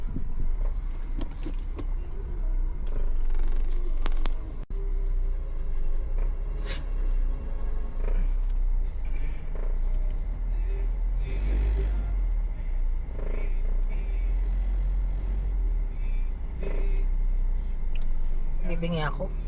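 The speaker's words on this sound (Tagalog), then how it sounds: "The traffic." Road traffic in a Christmas rush, with trucks and buses rumbling past, a constant low engine drone and passing vehicles heard from inside a car, with people chatting over it.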